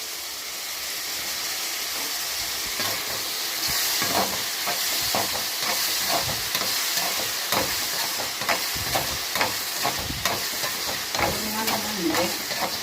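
Tomatoes sauté in a pan with salt for a tomato curry, giving a continuous frying sizzle and hiss up close, broken by repeated clicks and scrapes of a spoon stirring against the pan.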